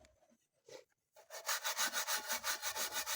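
Steel wool scrubs hard against a surface in a fast, steady back-and-forth rhythm of rasping strokes after a few quiet taps and rubs, close and alone without speech.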